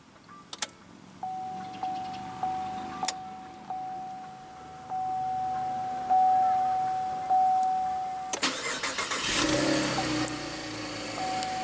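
A 2015 Chevrolet Camaro with a 3.6 liter V6 sits quietly under a steady electronic chime. Then the engine cranks and fires with a sudden burst and settles into a rough, steady idle.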